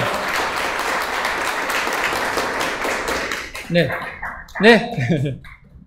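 An audience at a signing ceremony applauds loudly and steadily for about three seconds, then the clapping thins out and people begin talking over the tail end.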